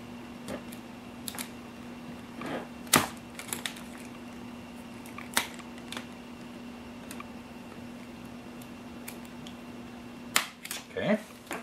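Plastic parts of a Tamiya 1/10 Ford Bronco model kit snapping together, giving a few sharp, close clicks spread over a quiet room, with a cluster of snaps near the end.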